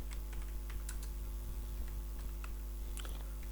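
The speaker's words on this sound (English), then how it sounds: "I am typing cmd system info." Someone types a command on a computer keyboard, a quick, irregular run of light key clicks close to the microphone, with no talk.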